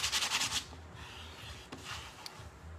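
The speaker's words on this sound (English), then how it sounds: "We're just gonna kind of gently, with our sandpaper, rub at that." Sandpaper rubs gently over a painted wood floral transfer, opening with a quick burst of rhythmic scratchy strokes, then fading to softer, quieter rubbing.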